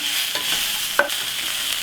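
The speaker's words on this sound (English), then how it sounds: "stir fry it a little bit, and then we're going to put down the meat and stir fry it together" Pork belly stir-frying with broad bean chili paste for Sichuan twice-cooked pork, a steady hissing sizzle with a few quick utensil scrapes and one sharp clink against the wok.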